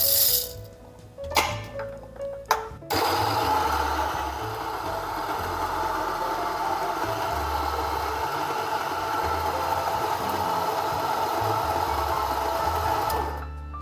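A Niche coffee grinder grinds espresso beans in a steady, loud motor whir that runs for about eleven seconds. A few clicks and short bursts come first, and the whir stops abruptly at the end.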